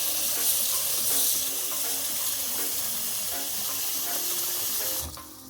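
Tap water runs steadily into a sink for soaking smoked herring in cold water, a constant close hiss and splash that cuts off abruptly near the end.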